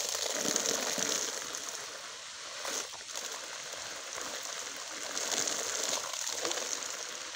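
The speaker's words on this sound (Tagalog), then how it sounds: "Napakalakas ng tubig. Tingnan mo naman yung sirit oh." Strong, steady water gushing from a pipe on a small farm's DIY continuous water supply: a close, hissing rush that holds level throughout, with slight surges.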